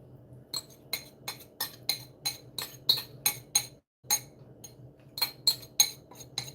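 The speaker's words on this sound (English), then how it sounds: "I'm going to add the melted butter" Utensils clink against a glass bowl while melted butter goes into an apple crisp mix, a steady series of sharp, close clinks roughly twice a second with a brief pause midway, over a low background hum.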